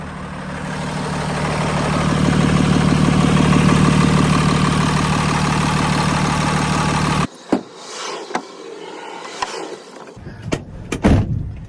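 RV engine running at idle right after startup during a roadside repair, a loud steady rumble swelling over the first few seconds, then cutting out to scattered handling clicks and knocks.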